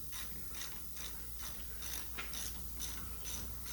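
A ratchet loosening the 11 mm rear banjo bolt on a brake caliper of a 1997 GMC Yukon gives a steady, close run of fast metallic clicks with no pause throughout.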